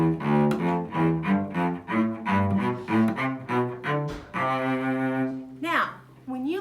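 A melodic instrument plays a scale in thirds, skipping up a step and falling back in a steady run of distinct sustained notes, ending on a held tone with a sliding flourish; no talking.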